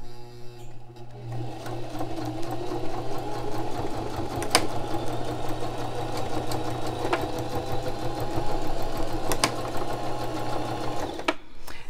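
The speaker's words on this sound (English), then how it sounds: "I'm just going to sew frontwards and backwards, just the zigzag across this" A sewing machine runs a zigzag stitch back and forth across a hole in a pair of jeans, a steady close whirring hum with rapid needle ticks that carries for about eleven seconds, then stops abruptly.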